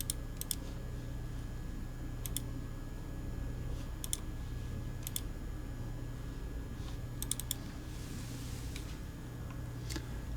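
Side buttons on a Logitech G903 gaming mouse are clicked repeatedly, giving sharp, close clicks in small irregular bursts over a steady low electrical hum, with no talking.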